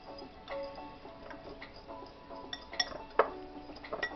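Walnuts and brown sugar stirred together in a bowl, light clinks and taps of a utensil against the bowl, scattered and irregular, with a couple of sharper knocks near the end.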